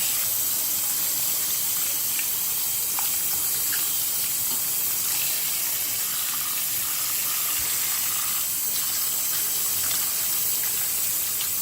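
Tap water runs steadily into a sink as tomatoes are washed by hand, a loud continuous hiss and splash with small irregular knocks and splashes as the fruit is handled under the stream.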